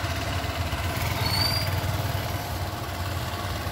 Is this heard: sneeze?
no